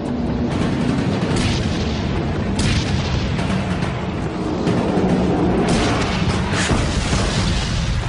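A 70-ton tank with a stabilized main gun firing while moving fast over bumpy desert ground, heavy booms punching through a loud, continuous rumbling roar.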